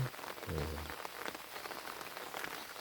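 Rain falls steadily on a vegetable garden with chive flowers and jujube trees, a continuous soft patter close by, with a brief low hum near the start.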